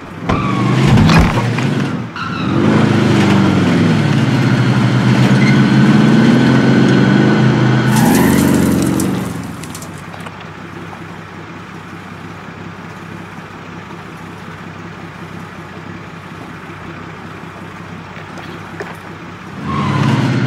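Loud vehicle in Call of Duty Warzone gameplay: an engine revs and drives with tire skids for several seconds, then a sharp burst of noise and a quieter rumbling stretch before another short rise at the end.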